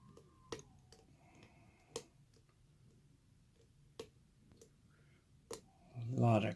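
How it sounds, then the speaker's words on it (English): Sharp metallic clicks from picking a lock, spaced irregularly every second or two, close and crisp, ending in a louder rattle of handling noise. "A lot of clicking going on."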